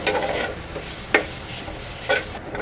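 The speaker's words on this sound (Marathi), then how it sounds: "कांदा टोमॅटो सगळं काही आपण चांगल्यापैकी भाजून घेऊया दोन मिनटं" Chopped onion and tomato roast in a hot pan for a shimla mirchi masala gravy, a soft steady sizzle broken by a few sharp stirring scrapes of a spoon.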